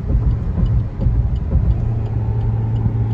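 A convoy of five or six cars drives along the Jewar highway in India, with a constant close engine rumble and tire noise from inside a moving vehicle.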